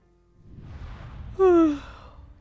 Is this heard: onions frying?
no